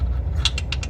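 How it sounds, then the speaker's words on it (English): A ratchet loosens 12 mm bolts on a 2005-2016 Honda Odyssey engine during knock sensor replacement, giving a short run of four crisp, close clicks. "Next, we're gonna remove the bolts right here."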